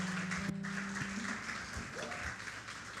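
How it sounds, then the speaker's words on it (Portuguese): Applause from a church congregation during an evening worship service, steady broadband clapping filling the room with some musical tones and a brief voice underneath. "Você pode aplaudir o Senhor nessa noite?"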